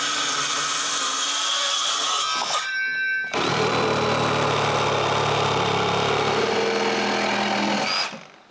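Power saw running steadily while cutting the excess off 4x4 wooden dock posts at a cottage, a loud continuous motor whine with a brief drop near three seconds before resuming and cutting off at the end.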